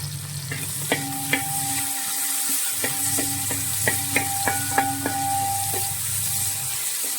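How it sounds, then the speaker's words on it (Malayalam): Chicken stew base with curry leaves sautéing in a pan, a steady sizzle broken by repeated scrapes and clinks of a spatula stirring, with a low hum underneath. "ഇങ്ങനെ നന്നായിട്ട് ഇത് വഴണ്ട് വരണം നല്ല ഗോൾഡൻ ബ്രൗൺ കളർ ആവുന്ന വരെ നമുക്കിതൊന്ന് വഴറ്റാം"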